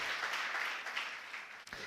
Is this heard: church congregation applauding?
yes